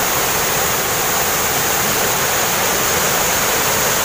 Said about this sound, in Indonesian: Coba lihat teman-teman, airnya cukup deras